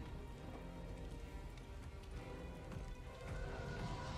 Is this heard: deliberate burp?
no